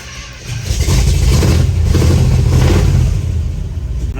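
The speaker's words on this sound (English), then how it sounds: "Just like the starter's starting to work more." Engine of a 1974 International Travelall cranking on its starter and catching, settling into a steady, loud low rumble that holds for several seconds before easing slightly; no talking.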